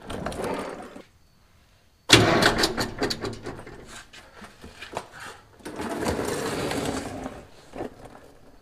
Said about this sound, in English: Trying to bump the starter to get the other Allen key to face down